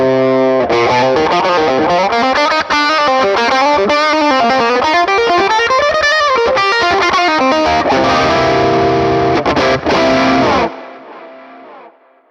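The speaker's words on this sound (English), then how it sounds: "This preset is called Country Lead." Electric guitar through the Morgan Amps Country Lead preset, edge-of-breakup AC20 tone, playing a continuous bending, sliding lead line with chorus-like shimmer, loud and close, ending on a sustained note that fades.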